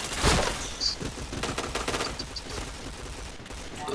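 Rapid gunfire bursts from a shooting video game, dense crackling shots close and loud, with faint announcer-style cues and a brief voice buried under the shooting.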